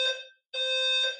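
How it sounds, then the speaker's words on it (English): A smoke-triggered fire alarm in an apartment building blares in loud, piercing electronic tones: a short beep, a brief gap, then a longer sustained blast, close and harsh. "now somebody has the fire alarm going off"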